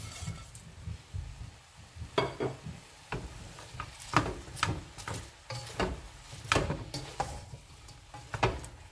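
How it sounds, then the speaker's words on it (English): Bacon and sausages go into a pot of cabbage, bringing soft sizzling together with a run of sharp knocks and scrapes, like a utensil stirring and tapping the pot at an uneven pace. "I'm gonna go ahead now and add my bacon and my sausages"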